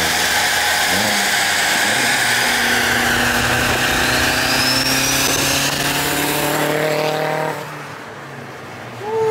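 A loud turbocharged Acura TL engine with a wastegate revs hard, its tone climbing steadily, then the throttle drops off near the end.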